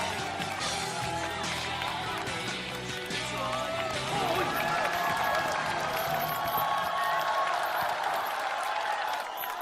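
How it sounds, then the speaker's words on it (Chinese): Audience applause and cheering at a Chinese talent show, a steady dense wash of clapping from a large crowd, loud and sustained, with a host speaking over it at first. "拍手"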